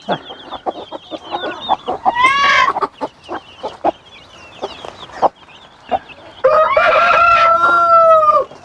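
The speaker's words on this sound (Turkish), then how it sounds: "tavuklarımız, horozlarımız gürültü yapıyorlar" Hens cluck in short bursts, then roosters crow loudly twice, long drawn-out calls close by, with clucking scattered between.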